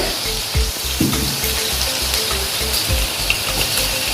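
Chopped ginger and garlic frying in hot sesame oil for a homemade chilli pickle, giving a steady close sizzle and crackle throughout with no talk.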